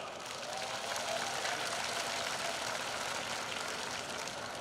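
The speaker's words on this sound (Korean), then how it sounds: "박수 한번 부탁드리겠습니다." Applause from a large crowd at the opening of a provincial sports festival forms a continuous, fairly quiet wash of clapping that stays even throughout.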